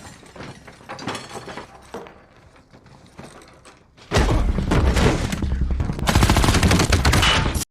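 Gunfire from a film fight scene in The Foreigner, dense bursts of shots and clattering action erupting loudly after a quieter, tense stretch of rustling and movement.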